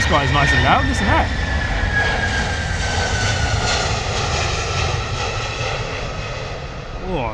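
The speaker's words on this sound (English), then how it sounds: "Did you hear the spool up on that though? Those engines were screaming." A Delta airliner landing at London Heathrow, its jet engines loud and whistling as it passes close overhead, a sustained roar with high whine slowly fading, while an onlooker talks over it.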